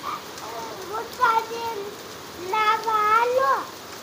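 Heavy rain mixed with falling hailstones makes a steady, close hiss throughout, while children's voices talk and call out over it.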